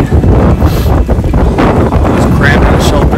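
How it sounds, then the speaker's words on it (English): Cold wind gusts hard across the microphone outdoors on the Appalachian Trail during a rainy stretch, loud buffeting roars rising and falling in quick surges close to the mic. "it's blowing, cold wind, rain"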